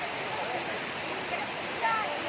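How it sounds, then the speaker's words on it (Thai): The tall, multi-tiered Kuang Si waterfall near Luang Prabang roars in a steady, broad rush of falling water. It sounds close and even throughout, with a brief splashy surge near the end. "มันมีน้ำตกสูง"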